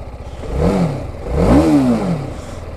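A 2021 TVS Apache RR310 BS6 motorcycle engine running close by, giving two rising and falling rev swells over a steady idle.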